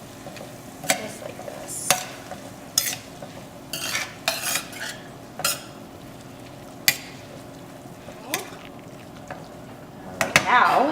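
Pancetta frying in a pan for homemade orecchiette with peas, with a soft steady sizzle beneath repeated sharp clinks and scrapes of a utensil stirring against the pan, while a person talks intermittently.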